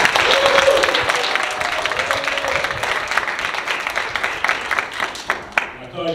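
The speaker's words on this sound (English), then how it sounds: "Let's give one more round of applause." A crowd at a youth basketball event applauds steadily, dense clapping that gradually thins out over several seconds, with a voice heard briefly over it.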